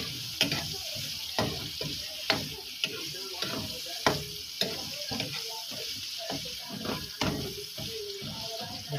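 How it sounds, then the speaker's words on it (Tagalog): Onions frying in a hot pan with steady sizzling, broken by repeated sharp scrapes and clacks of stirring at an uneven rhythm, close up and fairly quiet with no talk. "Lutuin lang natin mabuti mga lalab ang sibuyas."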